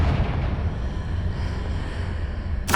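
Confringo blasting spell in Hogwarts Legacy: a deep, rumbling explosion that rolls on steadily for a few seconds and ends in a sharp burst of noise.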